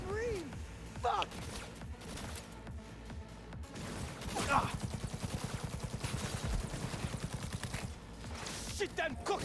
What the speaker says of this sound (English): are they shooting me from above?